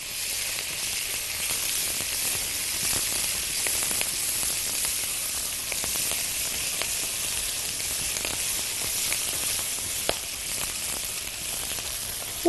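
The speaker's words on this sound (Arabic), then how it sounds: "والبصل بيتشوح كده، بحاول افككه من بعضه عشان ما تبقاش كتلة بصل مع بعضها" Onions sauté in melted butter in a pan, giving a steady, dense sizzle and hiss close by, with faint scraping from stirring to break the onions apart and no voices.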